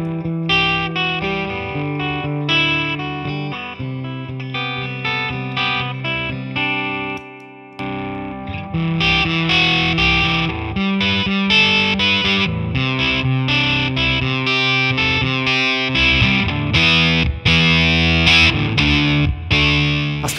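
Electric guitar driven through overdrive pedals into a Fender Twin Reverb tube amp, playing a continuous distorted riff of chords and single notes, loud and close, with one brief drop-out midway and no talking.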